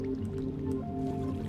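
Water in Minecraft sloshes and drips softly, a wet squishy burbling that runs continuously over a steady tonal background hum.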